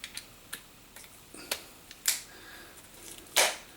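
A torque wrench tightening the clutch pressure plate bolts on a KTM 690 Enduro, sharp isolated clicks and ticks spaced irregularly, with two louder snaps near the end in a quiet workshop.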